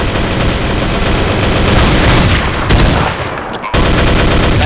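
Dense, continuous gunfire from the video game Counter-Strike 1.6, loud overlapping shots forming a steady roar with a brief dip before the firing resumes abruptly.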